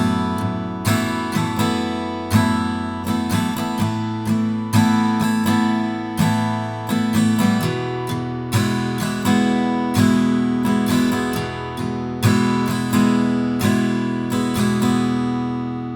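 Acoustic guitar strums the chords of the verse of a song in a steady down-up pattern, close and even, with bright chords repeating in a regular rhythm and no voice.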